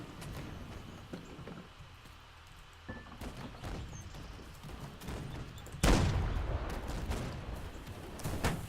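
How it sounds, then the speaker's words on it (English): Ship cannon fire during a coastal siege battle in the video game Holdfast: Nations At War, with several dull booms and scattered gunfire crackling throughout and one heavy, loud blast near the end. "They're starting to return fire from their ship's main gun."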